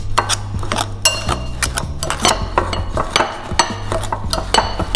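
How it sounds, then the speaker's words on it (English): Knives clinking and scraping against a bowl as they cut butter into a peach and blueberry crumble topping, steady irregular metallic taps and scrapes close up with no talking. "we're gonna use the knives to cut"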